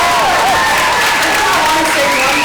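Audience applause at a spoken-word poetry performance, a steady wash of clapping with faint crowd noise filling the short moment, a brief high whistle-like tone sliding over it.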